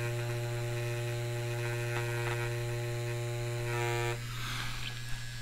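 An Ambition Torped tattoo machine runs with a steady, close electric buzz and a strong motor hum, its tone shifting and thinning slightly near the end.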